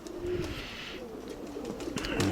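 Pigeons coo softly near by, low rolling calls under faint rustle and ambient noise, a brief continuous stretch with no talk.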